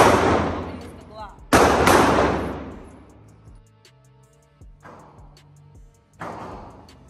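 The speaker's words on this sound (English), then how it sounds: "we're about to do rapid fire. She's gonna use the Walther. She's gonna use the Glock." Rapid-fire pistol shots from a Walther and a Glock at a range, loud sharp bursts with ringing decays and a few shots spaced out, heard close with no talk.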